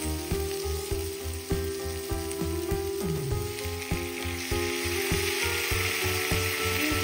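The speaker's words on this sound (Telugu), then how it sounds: "ఆనియన్స్ ఎలా ఫ్రై అవుతున్నాయి చూసుకున్నా ఒకసారి. చాలా మంచిగా క్యారమలైజ్ అయినాయండి." Onions and tomatoes frying in a pan of oil for mutton biryani, a steady loud sizzle with repeated rhythmic scraping and stirring knocks of a utensil, close up and without speech.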